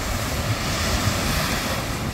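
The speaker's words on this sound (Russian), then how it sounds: "море чем дальше, тем, видите, больше волна набегает" Sea waves on a Turkish beach roll in and wash onto the shore in a continuous close roar, with wind buffeting the microphone and no voices.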